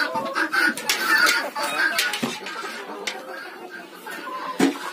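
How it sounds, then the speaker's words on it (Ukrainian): Backyard chickens on a Ukrainian village farm cluck and call in busy, overlapping bursts, close by and fairly loud, with clattering movement around them. "Курочки, тікайте. Тікайте."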